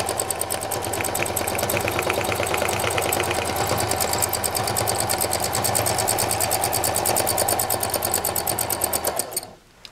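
Close, loud electric sewing machine stitching flower designs onto a painted clutch bag, a fast steady mechanical whirr with rapid needle clicks running continuously before stopping abruptly at the end.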